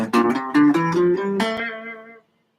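On guitar, a Phrygian scale runs up in a fast series of plucked notes, close and clear, the final note sustaining briefly before dying away.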